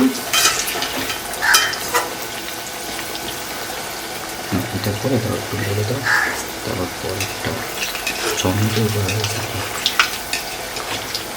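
Malpua pancakes fry in a pan of oil, giving a close, steady sizzle broken by bursts of bubbling and scraping, with faint talk underneath at times.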